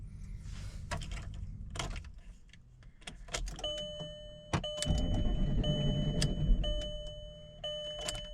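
A 2002 VW EuroVan with wiring faults cranks over, close clicks and knocks followed by a rough churning starter rumble with rattling, uneven and not especially smooth.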